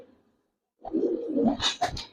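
Old-breed Giribaz pigeons coo in a loft, a short burst of close, fairly loud throaty cooing that starts after a moment of quiet and ends in a couple of sharper notes.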